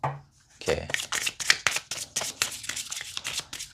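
Oracle tarot cards shuffled close up, rapid riffling bursts and repeated slapping of the deck in an uneven rhythm, while someone speaks over the shuffling.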